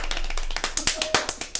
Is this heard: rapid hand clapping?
yes